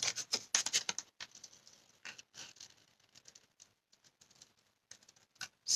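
Old scissors fussy cutting paper for a card: a run of crisp snips and papery rustles, rapid and loud at first, then sparser and quieter with small pauses between cuts.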